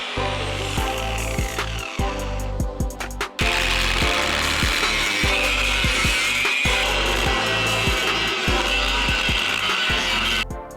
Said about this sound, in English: we cut both gearbox mounts off.